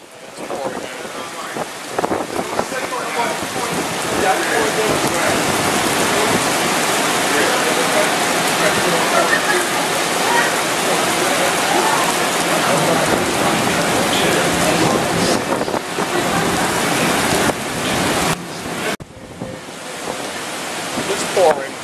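Heavy thunderstorm rain on Long Island pours steadily in a dense, continuous hiss close by, with a faint voice or two mixed in.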